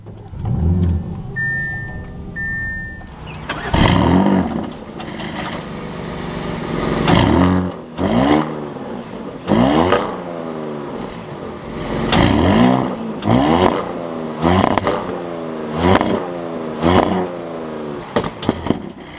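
A 2021 Audi S7 Sportback starts up with a brief chime and starter whir, then the engine fires and revs in repeated loud, close bursts that rise and fall over a settling idle.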